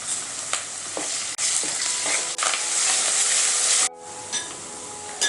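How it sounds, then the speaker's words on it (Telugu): Ginger garlic paste being stirred into onions frying in a pan for mirchi ka salan, giving a steady close sizzle with scraping stirs, briefly dropping to quieter frying near the end. "దీంట్లోకి 1 table spoon of ginger garlic paste, అల్లం వెల్లుల్లి పేస్ట్ వేసుకొని కలుపుకోవాలి."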